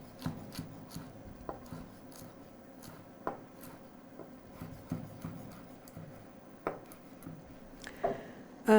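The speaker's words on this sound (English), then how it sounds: "That's just an easy way to cut leaves that are kind of thin." A knife slicing through thin leaves rolled up on a board, a series of soft irregular chopping taps and rasps, close and fairly quiet.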